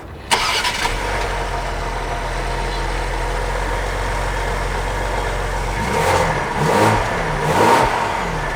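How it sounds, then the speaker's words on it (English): A 2020 Ford Explorer ST's 3-liter twin-turbo V6 cranks and catches with a sharp burst. It settles into a steady, deep idle nearby, then gives a few short revs that swell and fall back. "that'll again start up the same 3-liter twin turbo V6"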